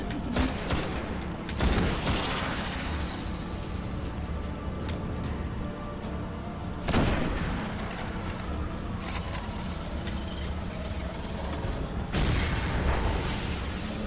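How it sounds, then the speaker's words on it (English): Booming blasts and rapid gunfire in Destiny, with several loud bursts rising above a constant rumbling battle din. "Explosions!"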